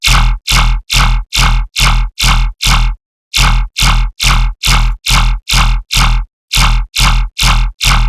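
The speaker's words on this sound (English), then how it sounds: "I'm just gonna add the distortion" A distorted dubstep synth sound repeats in short, loud, evenly spaced bursts, seven hits, a pause, then seven and four more, each a harsh buzzy stab standing alone.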